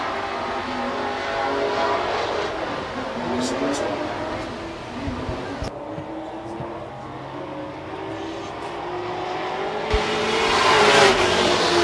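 A race car runs a qualifying lap at La Crosse Speedway, its engine droning steadily at a distance and swelling louder toward the end, heard under faint crowd and track background.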